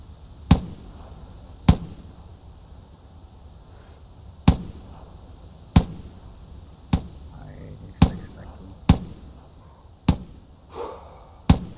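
Rifle shots in the hunting video game The Hunter Classic, fired at snow partridges: about nine sharp, loud reports spaced irregularly, each with a short decay over a low ambient background.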